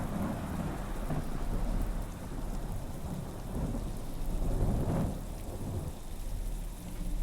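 Steady rain with rolling thunder rumbles fills the ambience of the video game The Excavation of Hob's Barrow, swelling in waves around the two- and five-second marks with no voices.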